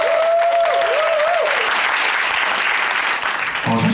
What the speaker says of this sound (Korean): 조금 더 큰 박수 부탁드릴게요